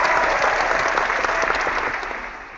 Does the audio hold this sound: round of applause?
yes